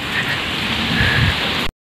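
Heavy, steady rain pours down during a downpour in Uttar Pradesh, a dense continuous hiss lasting nearly two seconds before cutting off abruptly, with no talking.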